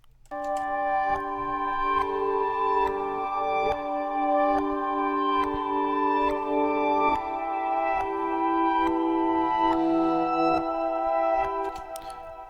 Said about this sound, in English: same pattern as before, but reverse plucks.